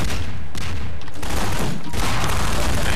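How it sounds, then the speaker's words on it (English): SMG gunfire in the shooter game Half-Life 2 Remixed comes as dense, loud overlapping bursts of shots and blasts, filling the whole moment with continuous chaotic firing and no voices. "I got a little SMG grenade."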